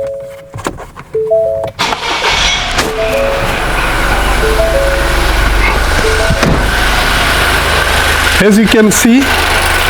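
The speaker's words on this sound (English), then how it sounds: "the engine started right up" A 2020 Ford Escape, previously suffering long crank and no start, fires up after a brief crank and settles into a steady idle, with someone talking over the engine and chimes sounding early on.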